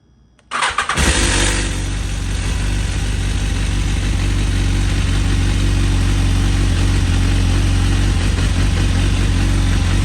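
BMW S1000RR sport motorcycle engine cranks and fires up, then settles into a loud, steady, close idle that continues without a break.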